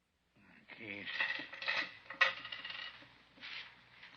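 Coins and keys clattering and jingling onto a hard surface as pockets are emptied, with several metallic clinks and a sharper drop in the middle in a radio drama scene, with faint voices underneath.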